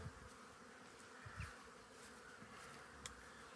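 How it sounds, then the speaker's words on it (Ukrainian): Bees humming across an apiary in a green setting, a continuous low drone of many insects with a few closer passing buzzes, faint and steady with no talk. "Пасіка вся гудить."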